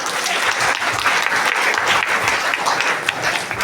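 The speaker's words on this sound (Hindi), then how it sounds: "मुंह से ज्यादा तालियों की आवाज।" A school audience at an annual function claps dense and sustained, with steady applause filling the whole stretch during a prize announcement for students.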